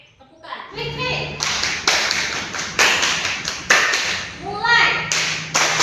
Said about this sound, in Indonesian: Kita pakai tepukan.